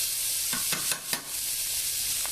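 Bacon renders in a pan for fried cabbage with a steady, close, bright sizzle, broken by a few sharp scraping clicks of stirring. No one talks.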